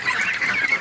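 A Muscovy duck gives a short, hoarse honking call, close and fairly loud, lasting under a second with no talking.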